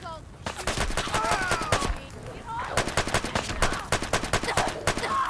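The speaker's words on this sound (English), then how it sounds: "Need some cover fire over here!" Rapid bursts of gunfire from a Fallout 4 firefight, dense repeated shots and volleys filling most of the stretch, loud and close, with a voice speaking briefly among them.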